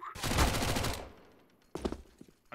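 Rapid burst of gunfire in Counter-Strike: Global Offensive on the Inferno map, loud and dense for about a second, fading out, then a second shorter volley of shots near the end.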